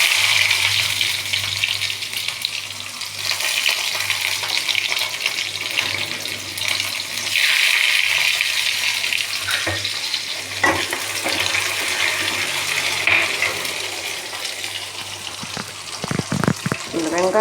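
Onions frying in oil with mustard seeds and urad dal give a loud, steady hiss that fills the whole stretch, with a few faint clinks and scrapes near the end.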